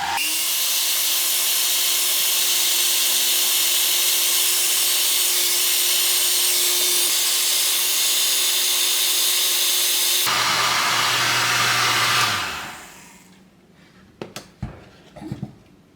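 A heat gun blows a loud, steady whirring roar while shrinking tubing over soldered motorcycle turn signal wires, then cuts off and winds down, leaving a few light handling clicks.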